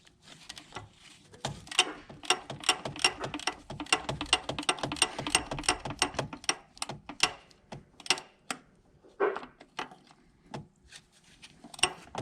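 A ratchet with a short socket on a 3-inch extension turns a starter bolt on a Ford Super Duty 6.7 Power Stroke truck, giving rapid close clicking bursts in runs with short pauses between them.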